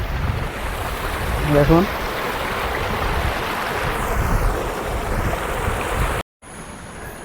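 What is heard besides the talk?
water flowing down a small mini waterfall in jungle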